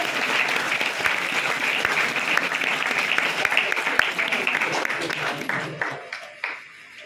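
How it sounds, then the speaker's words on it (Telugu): Audience at a motivational talk for students gives sustained applause, a dense crowd of clapping hands with a few sharper claps standing out, fading toward the end. "ఇక్కడ ఉన్న వాళ్ళందరినీ గట్టిగా ఒకసారి చప్పట్లు కొట్టాలి కోరుతున్నట్ట"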